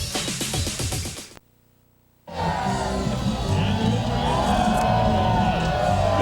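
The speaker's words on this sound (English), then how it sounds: "The crowd is into it here at the Swatch King of the Beach Invitational" A beachside crowd at the 1998 Swatch King of the Beach Invitational volleyball event outside the Hard Rock Hotel and Casino cheers and whoops loudly. A brief silent gap follows, then steady crowd noise resumes.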